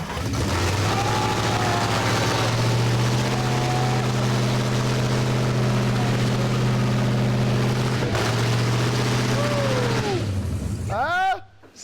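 A Ford Bronco engine cranks, catches and settles into a loud, rough, rumbling idle with throttle blips, then shuts off near the end. People talk nearby over the running engine.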